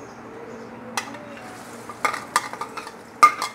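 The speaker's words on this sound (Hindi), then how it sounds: "अभी जो है हम इसी ऑयल में अपने प्याज ऐड करेंगे" Onions going into hot oil in a pan, a low quiet sizzle broken by sharp spoon scrapes and clinks of stirring against the pan, close by and intermittent.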